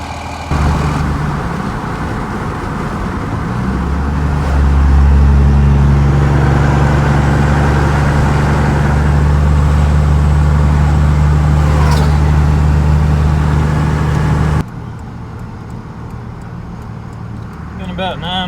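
A 2001 Dodge Cummins dually truck, freshly repaired after a cracked block was replaced, drones steadily with a low engine rumble and road noise while driving, loud and continuous, then cuts off near the end.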